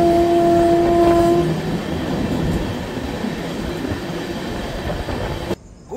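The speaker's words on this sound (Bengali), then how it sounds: "আমাদের ট্রেন শিয়ালদা থেকে নিউ ফারাক্কা 283 কিলোমিটার পথ অলরেডি অতিক্রম করে ফেলেছে" A Sealdah–Jalpaiguri Road Humsafar Express running on its first commercial run, a loud continuous rumble of wheels and carriages with a brief horn-like tone at the start, then an abrupt drop near the end.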